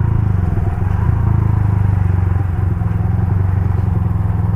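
A Modenas RFS150i motorcycle with a stock engine and a Racing Line exhaust idles steadily up close, a loud, even, throbbing burble with a slight rattle and no voices.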